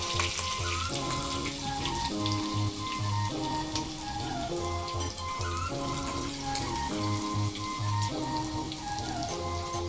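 Curry leaves and green chillies sizzle and crackle in hot oil for a dhokla tempering, with a dense, continuous frying hiss and rapid spattering pops throughout.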